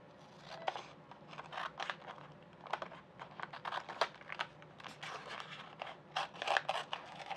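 Scissors snipping around vinyl and masking transfer tape for a tumbler decal, a quiet series of short close cuts and crinkles without speech.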